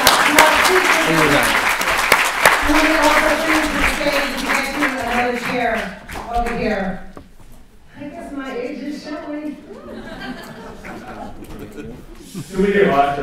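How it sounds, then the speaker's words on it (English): Applause from a crowd runs under people talking, fading partway through before a short burst of clapping returns near the end. "Can we give Asha a round of applause?"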